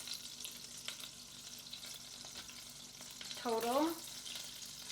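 Steak bites frying in bubbly butter in a pan, a steady soft sizzle and crackle throughout, with a brief spoken word over it.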